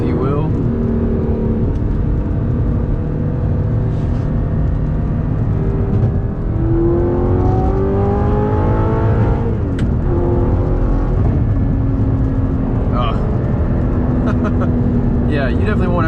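An Audi R8 with a gated manual gearbox revs hard during spirited driving, heard from inside as a loud engine climbing through rising sweeps with drops at shifts, while someone talks over it.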